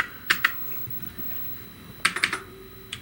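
Keys tapped on the built-in keyboard of a 1984 Commodore SX64 computer, a couple of quick isolated clicks followed by a short burst of several more, close and clear against a quiet hum.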